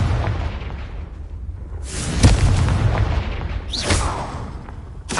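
A Confringo fire spell explodes in the Hogwarts Legacy video game, giving a deep booming blast with a whooshing burst, followed by a second rushing swish and crackle a moment later.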